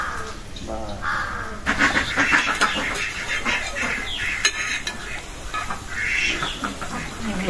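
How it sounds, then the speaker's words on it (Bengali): Ducks give scattered nearby quacks while someone talks over them in a home setting. "ওরা নামে হাঁস, ওরা 5 বেলা খায়।"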